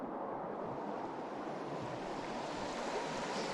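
A Unimog U1700 truck fords an icy creek in snowy high country, producing a continuous broad rush of churning water and wind buffeting that stays loud and steady throughout.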